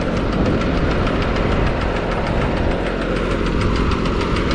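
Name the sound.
tractor engine pulling a fishing net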